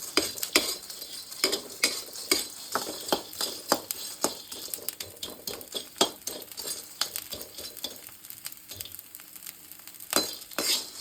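Moong dal being fried for laddoos, with a spoon scraping and knocking against the pan in quick, irregular strokes over a light sizzle, close and fairly loud, with no talking.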